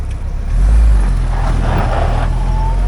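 A 1956 Willys CJ5 jeep with a rebuilt engine spins one wheel on loose gravel along a backroad, a loud rumbling engine surge with grinding wheel noise that swells and holds, no talk.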